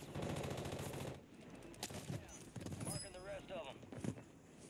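Rapid automatic gunfire from a Call of Duty match on Rebirth Island, loud bursts with clattering shots mixed with in-game sounds while a player talks over it.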